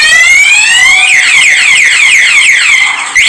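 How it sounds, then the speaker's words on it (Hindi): Remote central-locking security alarm on a motorcycle, wailing loud and continuous at close range, its pitch sweeping rapidly up and down in repeating siren cycles, with no voices. "तो देख सकते हैं किस तरह से सिक्योरिटी अलार्म हमारा प्रॉपरली काम कर रहा है"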